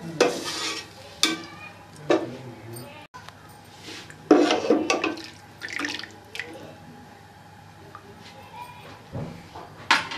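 Masoor dal being stirred and mixed in a pot, with scraping, clinking strokes and faint sizzling, arriving in bursts over a low steady background with no talking.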